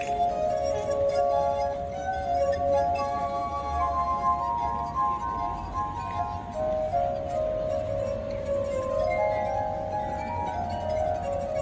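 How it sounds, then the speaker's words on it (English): Water-filled drinking glasses played as an instrument ring out in sustained, glassy tones that glide and overlap in a slow melody, steady and fairly loud with no voices. "This is the sound of water glasses."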